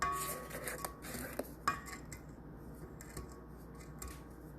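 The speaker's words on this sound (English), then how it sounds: "So I'm just gonna lift and do a little scrape down of my bowl." Spatula scraping down a KitchenAid stand mixer bowl full of Oreo biscotti dough, a few close scratchy strokes and light metallic clinks against the bowl, fairly quiet, no voices.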